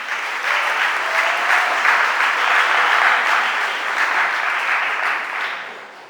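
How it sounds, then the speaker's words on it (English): Steady, close applause from the audience at a state environment committee hearing, lasting several seconds and gradually tapering off at the end with no talking over it. "I think this is the first hearing I've been in where everybody gets applause."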